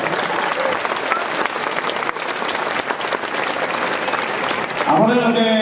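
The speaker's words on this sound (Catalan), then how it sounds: "li donarem en agraïment un gran aplaudiment" Audience at a comic embassy performance in Novelda breaks into sustained, loud applause with crowd noise, dense clapping throughout, and a voice or music entering near the end.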